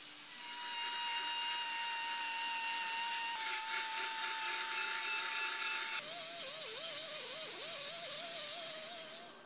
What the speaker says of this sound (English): this time I'm finishing with a palm sander, as I'm finding that it's working quicker than the belt sander